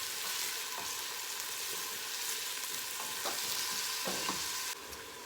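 Onions frying in a pot with a steady, close hiss of hot oil, broken by a few soft scrapes and taps of stirring.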